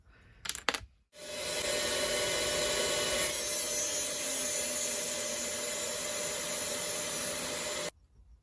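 A power tool trims the edges off a Tamiya Mini 4WD plastic part, a steady close whirring grind running for several seconds before cutting off abruptly, after a few brief handling clicks.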